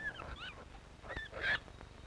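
Prairie dogs give a few short, thin whistling chirps in quick bursts, faint and slightly distant, separated by brief pauses.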